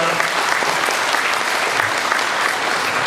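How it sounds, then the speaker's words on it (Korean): Wedding guests applaud the groom's vows at a Korean musical-style wedding ceremony, with full, steady clapping from the crowd filling the room. "박수 부탁드리겠습니다"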